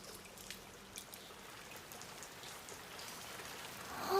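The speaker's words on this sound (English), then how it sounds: "Is that rain?" Soft, steady rain pattering on the surface above an underground area in a video game, a faint continuous patter with scattered drops and no voices.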